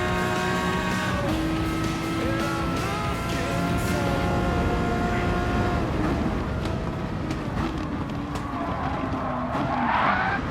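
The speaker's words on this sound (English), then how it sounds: "It's amazing being in the pack of some really awesome touring cars at Brands Hatch." Touring cars race in a pack at Brands Hatch in the Gran Turismo Sport video game, engines droning steadily with shifting pitches, tyre squeal and skidding rising near the end, no talking.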